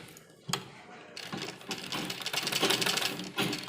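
A sewing machine stitches a half-inch seam joining a kurti sleeve made from an old dupatta. A short burst of rapid mechanical clatter settles into a steady, close run.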